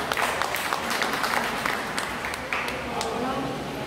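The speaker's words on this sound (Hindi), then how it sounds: "दोस्तों अपनी टीम के लिए जोर से ताली बजा रहे" Workers at a confined space and rescue safety training session clap for their team, dense, uneven handclaps close by that stay loud throughout, with voices mixed in.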